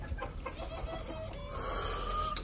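Desi chickens in a bird aviary cluck softly over a steady background hum, with a faint thin crow-like call rising near the end.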